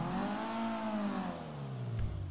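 Vapid Flash GT with a big bore exhaust in GTA V revving up, its engine tone rising and then falling back in one smooth sweep, close and clear, with no talking.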